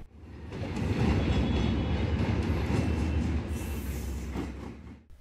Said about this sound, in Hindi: डिग रोड स्टेशन से कैंट स्टेशन के लिए रवाना। अट्ठारह डाउन मिल्लत एक्सप्रेस